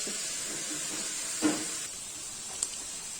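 Steady hiss of a tadka tempering sizzling in hot oil, with a couple of faint kitchen clinks.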